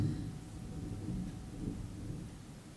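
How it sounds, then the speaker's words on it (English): Distant thunder rumbles low and faint in a brief, steady roll, with no voices over it. "Y'all hear thunder."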